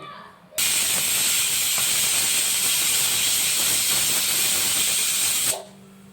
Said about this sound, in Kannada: ಒಂದು ವಿಷಲ್ ಬಂದ್ಬಿಡ್ಲಿ ಅದು.